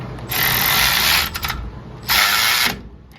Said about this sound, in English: If you have a little 3/8 electric ratchet, you go ahead and snug them in.